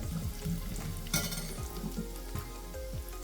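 Asafoetida and garlic frying in hot oil, a continuous crackling sizzle with a few stirring scrapes, close and fairly quiet.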